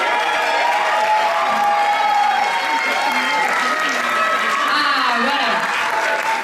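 Audience clapping and cheering at an evening theatre show for the contestants, a steady dense wash of applause with crowd voices mixed in and someone speaking briefly over it.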